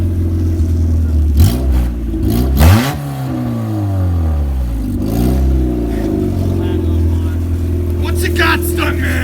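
A Honda Del Sol engine revs hard for a neutral drop, loud and close, with repeated rising and falling revs and a sharp climb midway before it settles to a steady roar, while voices shout over it.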